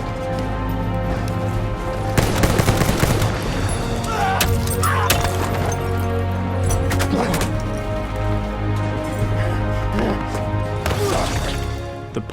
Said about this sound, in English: Every gun with their own unique, deafening crack.